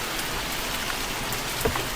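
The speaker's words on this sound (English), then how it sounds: "Let in some of the rain." Rain coming through an open window in the horror game Mortuary Assistant, a soft continuous patter of drops with a faint heavier tap near the end.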